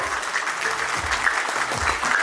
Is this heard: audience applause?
yes